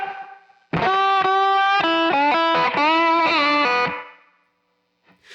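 An electric guitar in open E tuning plays a blues solo lick in E, with loud, distorted, sustained notes, slides and bends running for about three seconds before ringing out into silence.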